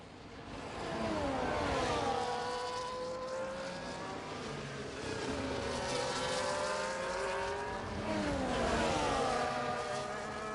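Race cars in a sim racing game at the Spielberg, Austria circuit run single file late in the race, engine notes rising and falling through gear changes in a steady, loud blend with no talk.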